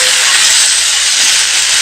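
Mixed vegetables being stirred in a hot kadai, giving a loud, steady sizzling hiss that carries through without a break.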